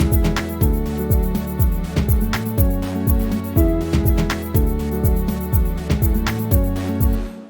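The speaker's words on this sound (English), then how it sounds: "So the bass line sounds like this together." An Afro house bass line, built in FL Studio with a deep sub tone, rolls in a steady repeating groove over punchy drums. The beat is full and loud, with no voices.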